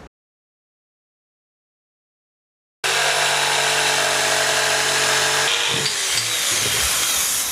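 A power saw cuts scrap wood for a Kreg Jig workbench, starting abruptly after near silence with a loud, steady whining buzz that roughens and winds down near the end as the cut finishes.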